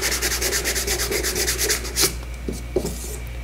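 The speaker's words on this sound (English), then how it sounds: "So you can sand this" Fumed white oak is hand-sanded in quick rhythmic back-and-forth strokes, a close, scratchy rasping that repeats steadily and then gives way to a few light taps and knocks.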